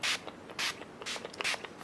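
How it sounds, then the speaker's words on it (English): Urban Decay Chill Makeup Setting Spray is spritzed four times, each a short, airy hiss at an even pace. The bursts are fairly quiet and heard alone. "now I'm going to set everything with my Urban Decay Chill Makeup Setting Spray"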